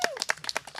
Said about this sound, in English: thank you for clapping, I appreciate that.